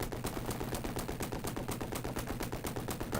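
Steady rapid-fire gunfire from the Urban Strike helicopter game, an even mechanical stream of shots at about six per second, loud and continuous without pause.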